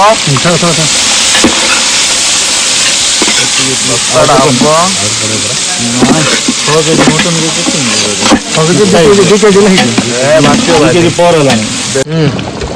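Chopped onions hit hot oil for a mutton curry cooked at a riverside picnic near Darbadi waterfall, giving a steady sizzle that runs beneath loud, overlapping voices or music throughout.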